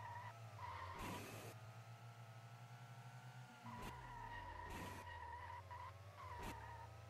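Tires skid and squeal in a racing video game as a car drifts, with loud repeated skid bursts over a droning engine that shifts pitch, no voices.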